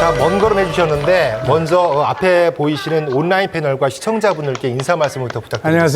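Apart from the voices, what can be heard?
No everyday noise stands out behind the speech.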